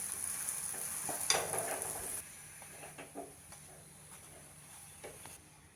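A paratha roasts on a hot pan with a soft steady sizzle and hiss, a louder burst of crackling early on, then fainter sizzling with occasional light scrapes.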